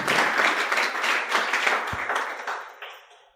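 A church congregation applauds during a sermon, dense clapping at a steady level for a few seconds before gradually fading out, with a single low thump near the end.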